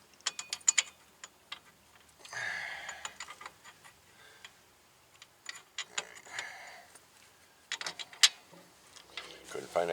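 A ratchet tightens a bolt on the rear wheel bearing of a 2015 Buick Enclave, with rapid clicking bursts interrupted by pauses and scraping, close, while people talk intermittently.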